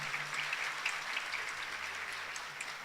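Spontaneous applause from an audience at a religious talk, a steady broadband patter of many hands clapping at moderate level, continuous for a few seconds with no voices over it.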